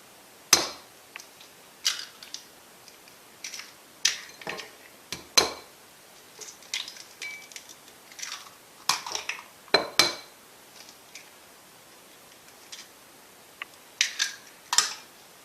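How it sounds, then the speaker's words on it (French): Eggs cracked into a bowl while making a courgette and smoked salmon tart: a series of sharp, close clicks and taps of shell against the bowl's rim, scattered irregularly with brief quiet gaps between. "Dans un autre bol, nous allons casser nos œufs."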